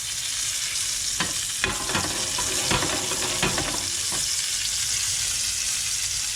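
Butter sizzling in a very hot pan with oil before mushrooms go in, a loud, dense continuous hiss with a few brief clicks of a utensil against the pan.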